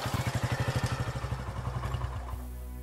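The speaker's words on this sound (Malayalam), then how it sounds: "ആ മോട്ടോർ ബൈക്കിൻ്റെ ശബ്ദം കേൾക്കുമ്പോൾ തന്നെ എനിക്ക് പേടിയാണ്" Doctor's motorbike engine running close by, a rapid rhythmic thumping idle that pulses evenly, then eases and fades into a softer hum over about three seconds.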